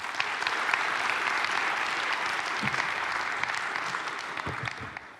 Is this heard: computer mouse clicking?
no